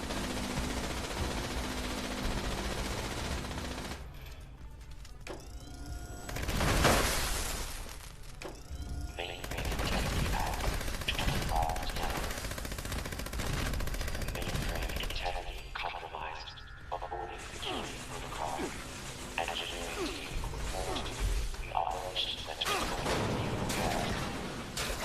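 Defensive turrets firing in Fallout 76, dense bursts of rapid automatic gunfire mixed with impacts and mechanical clatter, loud and continuous, with a voice talking over it at times.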